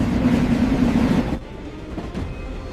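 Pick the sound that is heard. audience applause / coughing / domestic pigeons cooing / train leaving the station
train leaving the station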